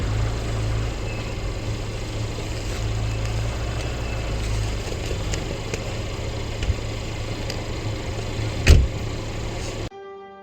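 Snow blower clearing a snowy walkway outside a Toronto house after a blizzard, a steady engine drone running throughout with a brief louder knock near the end before it cuts off.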